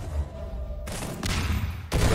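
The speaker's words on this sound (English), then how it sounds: "Gets picked off with the SMG nade, and the combo with the shotgun is too strong" Half-Life 2 Deathmatch gunfight with an SMG grenade and shotgun blasts, loud bursts of gunfire arriving in two or three heavy chunks over a short stretch, no talking.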